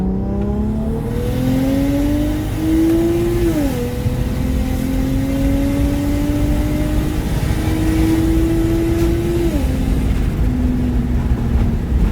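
A single-turbo BMW 335i with boost problems pulls hard from inside the car. The loud engine note climbs steadily, then drops sharply at gear shifts near four and ten seconds before rising again, with no talking.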